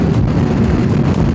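Strong crosswind buffeting a motorcycle ride along a built-up causeway road by the sea on Saaremaa, Estonia, a loud continuous low roar of wind rush and engine rumble with gusty pulses and no speech.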